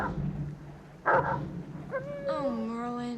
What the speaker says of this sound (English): So that dog turns up later in the movie as well.